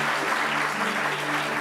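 Dense, steady applause from an audience at an award ceremony, continuous clapping filling the whole moment without pauses.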